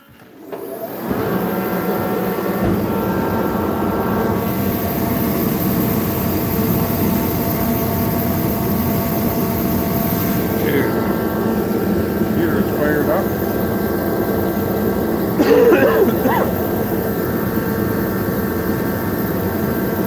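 A skid steer engine cranks and catches, then runs at a steady loud drone with a faint whine on top and a voice talking over it.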